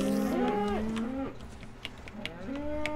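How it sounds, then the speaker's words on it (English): Cows in the game Minecraft moo several times in a row, long drawn-out calls that overlap and swell, loud and close, with a few faint clicks of game actions underneath. "Feed the cow. Feed the cows."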